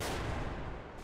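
A loud explosion in the video game Metro: Last Light Redux, a dense booming burst of noise filling the whole moment.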